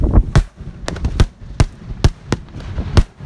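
Fireworks at a small high school homecoming display, a series of sharp bangs and crackling bursts at irregular intervals, fairly close and loud against an outdoor crowd background.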